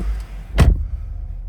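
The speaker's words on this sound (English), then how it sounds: "Let's shut this door." A Mercedes GLB 200 AMG Line car door shuts with a single close, solid thump, followed by a quiet interior hush.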